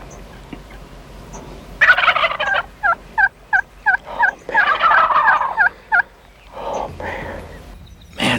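A mature wild turkey, a young jake with a round fan, gobbles loudly and close in a spring hunting setting, a burst of rapid rattling gobbles followed by a string of short repeated clucks and calls, then quieter calls.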